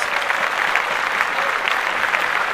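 Audience applause fills the room at a podcast event, a steady dense wash of many hands clapping with no pauses, fairly close and loud throughout.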